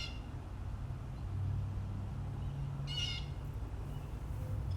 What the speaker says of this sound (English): You hear that? It's a loud bird.